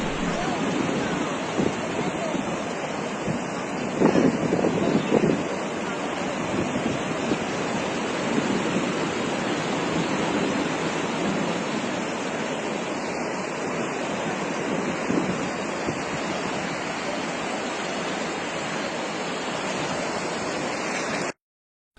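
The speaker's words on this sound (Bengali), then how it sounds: "তাহলে তোমাদেরকে চলো দেখায় ভিডিওতে সমুদ্রের আওয়াজটা এবার শোনো কেমন লাগে এই শুনতে।" Sea waves roll onto the empty beach at Mandarmani in a steady, loud wash of surf with wind noise, one fuller surge cresting early on before the roar ends abruptly.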